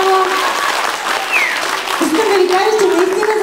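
A concert audience at the 2011 "Творим заедно" show applauds loudly. The clapping is dense and sustained for the whole stretch while a person talks over it.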